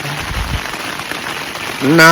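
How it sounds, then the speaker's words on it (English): Steady rain patters close by for about two seconds, then a voice starts at the very end. "It's raining. Can you hear that?"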